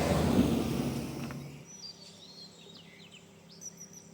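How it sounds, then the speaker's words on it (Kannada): Birds chirp and whistle in short, scattered calls at a distance, following a louder rush of wind or movement that fades away. "ಕೇಳಿಸ್ಕೋರಿ ನೀವು ಆ ಪಕ್ಷಿಗಳ ಕಲರವ"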